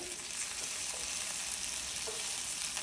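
Battered fish frying in a pan, being re-crisped and given a stir: a steady, close hiss of sizzling oil with occasional soft scraping knocks from the stirring.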